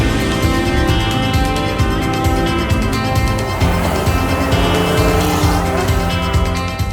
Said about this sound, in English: The two Huracans barrel from corner to corner, leaving behind a wake of pure noise